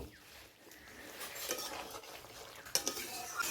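Okra and potatoes stir-fry in a pan, with soft sizzling under repeated scraping strokes of a spatula and a sharper metal clink near the end, fairly quiet and close.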